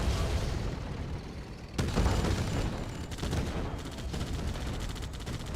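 Cannon fire in the strategy game Uncharted Warfare: a sharp boom at about two seconds, then a rapid burst of crackling shots over dense, rumbling battle noise that stays loud throughout.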